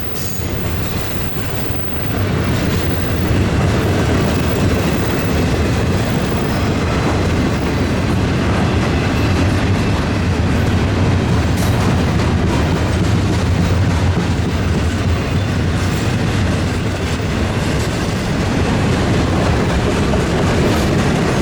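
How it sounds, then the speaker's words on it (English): Florida East Coast Railway freight train 202 rolls past near Jacksonville, loud and close, with continuous rumbling wheels, clattering cars and a few brief squeals as the locomotive throttle opens. "While 202 passes, you can tell its rear marker has cleared the bridge as the engineer opens the throttle for the home run into Jacksonville."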